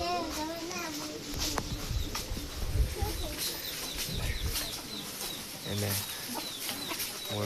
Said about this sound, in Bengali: মুরগি বাচ্চা টাচ্চা সব।